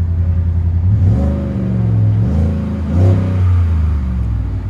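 A 2017 Ford F-150 pickup's 5.0L V8 revs up twice over a low idle rumble, each rise throaty and loud, then falling back, heard up close.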